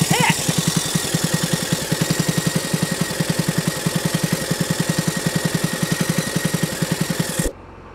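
Seed tender motor running rough on a peanut field, a loud, close, rapidly pulsing engine chug with uneven beats that cuts out abruptly near the end, leaving near silence.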